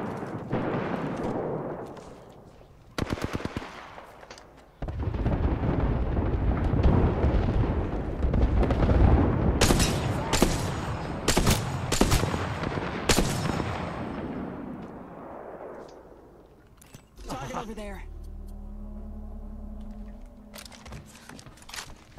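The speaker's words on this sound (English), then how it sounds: "Airstrike danger close." Bangalore's airstrike artillery barrage in Apex Legends, a long rolling run of heavy booming blasts that build and layer close together, with sharper cracks mid-barrage before a final rumbling fade into lighter shots.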